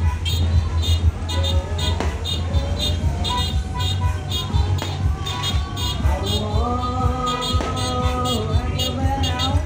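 Cars rolling through a crowded takbiran street parade celebrating Eid al-Fitr in a home village, with steady engine rumble under dense crowd noise, loud amplified music or chanting, and occasional horn-like tones throughout.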